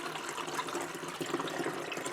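Water pours steadily into small squeeze bottles of mixed Procion tie-dye, a continuous close splashing fill with no talk.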